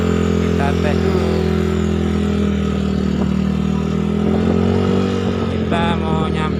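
A motorcycle engine, a standard or bored-up bike with a radiator coolant problem, drones steadily on a test ride, a loud, near, even hum with wind noise and a few clattery knocks.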